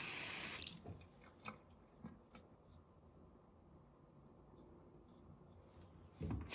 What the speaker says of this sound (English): We're gonna rinse our face, warm water.